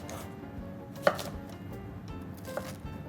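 A knife coarsely chops fresh green garlic on a cutting board, giving a run of close, crisp, evenly spaced taps with one sharper knock. No one speaks.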